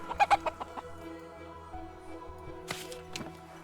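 A chicken clucking in the video game Book of Hours: a quick burst of several sharp clucks at the start, then scattered softer clucks over a low steady hum, with a brief rustling flurry near the end.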